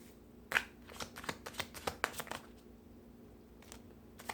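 Tarot cards are shuffled by hand close up, a quick series of crisp riffling snaps and flicks over about two seconds, then a few softer taps in a quiet room.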